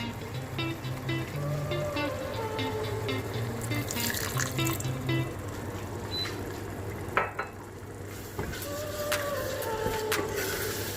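Chicken biryani with tomatoes and a splash of water in a pot, a steady low bubbling and sizzling hum with occasional scrapes and clinks of a utensil against the pot.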